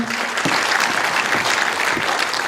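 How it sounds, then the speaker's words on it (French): An audience applauding at a presentation of a women's professional cycling team, dense continuous clapping that stays steady and fairly loud throughout. "Aurélien Tricot, mesdames, messieurs, sous vos applaudissements."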